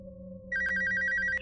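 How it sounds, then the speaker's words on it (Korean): An electronic telephone ring in a mobile horror video game: a low ambient hum, then a rapid repeating trill starting halfway through that carries on to the end, loud and clear with no talk. "전화가 들리고 있는데?"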